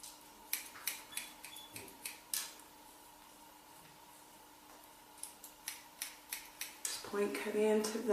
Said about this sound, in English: just point cutting into that